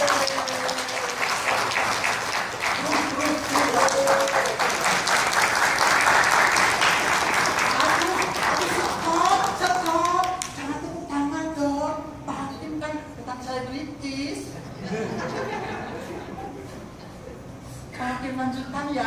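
Sustained, dense audience applause after a monodrama stage performance fills the first half, then thins into scattered clapping as several voices and laughter rise and talk over it.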